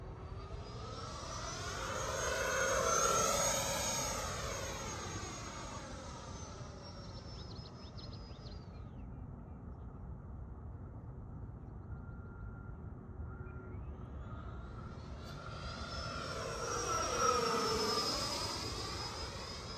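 An FMS Super Scorpion 90mm EDF radio-controlled jet on 8S power makes two whining flybys, its high ducted-fan scream swelling and Doppler-shifting as it passes, fading to a steady distant hum in between.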